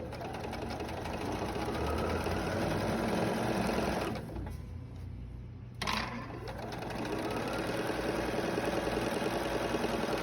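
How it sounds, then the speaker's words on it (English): A Bernina sewing machine stitches a mitered quilt border, running steadily and up close, pausing briefly for about two seconds in the middle before starting up again. "I'm gonna go ahead and place my needle right where I left off on the other side, and without sewing over your pins"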